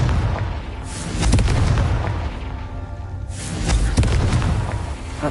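Booming spell explosions cast in the video game Hogwarts Legacy, two loud broadband bursts about two seconds apart, each with a rumbling tail over a low ambient bed.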